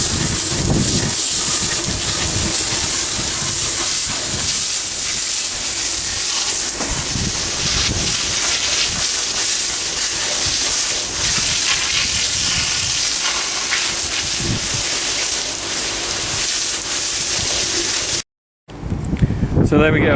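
Pressure washer blasting dirt off the worn steel of a muck spreader, a loud, steady hiss that runs almost unbroken, with a brief cut near the end.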